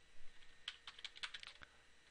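Rapid typing of a debug command on a computer keyboard, about a dozen close, crisp key clicks in an uneven burst, fairly quiet, with no talk.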